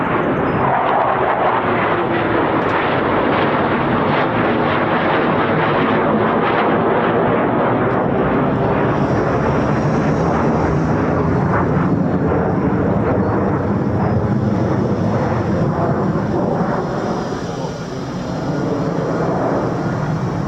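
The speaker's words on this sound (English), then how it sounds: "Air brake there creating drag, slowing the aircraft down." F-15 fighter jet flying with its air brake deployed as it slows down, a loud, continuous roaring engine rumble that dominates the whole stretch and dips slightly near the end.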